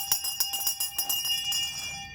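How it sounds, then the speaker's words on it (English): A hand bell rings for school at an 1859-style schoolhouse, struck repeatedly in a quick, uneven rhythm with bright metallic tones, fairly close and clear with no talking. "And that is the bell for school."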